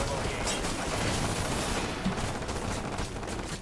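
Rapid gunshots ring out in the shooter Hatred, a continuous barrage of fire blended with booms and mechanical clatter, loud throughout with a voice briefly present.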